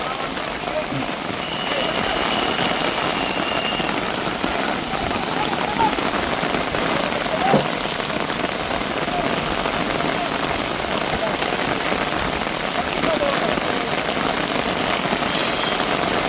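Heavy monsoon rain pours down steadily at an Indian Army bridge construction site, a dense, continuous hiss of drops on surfaces, with a faint engine hum underneath and occasional voices.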